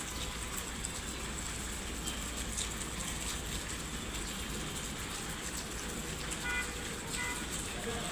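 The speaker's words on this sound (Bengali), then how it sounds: "অনেক বৃষ্টি পড়ছে যখন আসর আজান দিচ্ছে।" Heavy rain pours down outside in a steady, dense hiss that stays loud and even from start to finish, with no talk over it.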